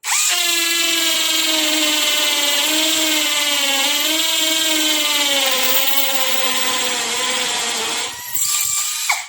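A Nanwei cordless drill runs at full speed as a loud, steady, high-pitched motor whine that sways slightly in pitch, then cuts out near the end with a brief rev back up.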